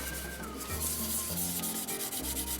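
Steady rubbing and scraping of sandpaper wet sanding with soapy water on a 1949 Mercury AMT model car kit, with low droning hum beneath, continuous and close, strokes shifting slightly in pitch; no talking.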